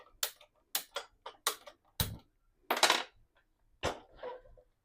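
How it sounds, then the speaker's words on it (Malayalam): A cooking pan is set on a gas stove while making a fish head curry, heard as a series of separate close metallic clacks and knocks spaced through the clip in a quiet room. "എന്നിട്ട് ചട്ടി വെച്ച് കൊടുക്കാം."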